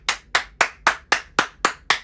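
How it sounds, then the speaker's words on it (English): Eight sharp hand claps in a steady, even rhythm, close and fairly loud, with no other sound around them. "you gotta clap that energy away."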